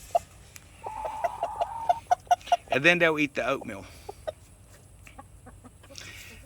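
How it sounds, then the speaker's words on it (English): A rooster on a homestead gives a rapid series of soft, low clucks close by to call hens to worms, alongside a brief squawk from the flock, while a person talks over part of it. "He makes that little cluck cluck sound to let the hens know that there's something good to eat."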